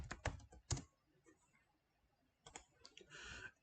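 Someone types on a computer keyboard in a quiet room, a short burst of close, soft key clicks, a pause, then a second quicker run of keystrokes.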